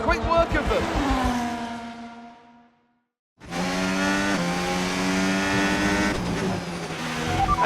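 Formula 1 race cars in the game F1 25 scream past in close pack racing, high revving engines rising and shifting, cutting out briefly to silence before a dense roar of several cars returns, with talk over the top.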